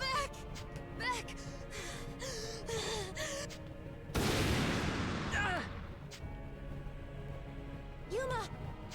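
A loud explosion in the video game Shining Resonance Refrain erupts midway as a broad booming burst, set among game music with chiming tones and voices before and after.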